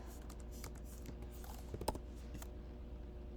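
Quiet clicking of a computer keyboard while typing into the Desmos graphing calculator, a handful of soft keystrokes clustered near the middle over a faint steady hum, with no talking.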